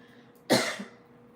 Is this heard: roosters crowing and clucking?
no